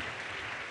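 A church congregation claps hands together in thanks, a brief, dense wash of many hands that sounds slightly distant and reverberant.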